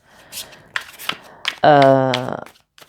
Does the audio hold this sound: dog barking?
no